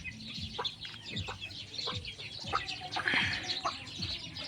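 A hen clucks in a series of short, close clucks spaced irregularly, with soft chirps and farmyard background around them and no talking.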